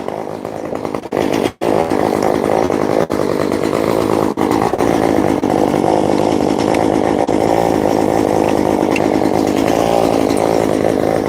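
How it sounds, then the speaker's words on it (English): A chainsaw warming up runs loud and close for over ten seconds, a steady buzzing drone broken by a few brief dips in the engine. "Let's go get the second chainsaw operational, warmed up also."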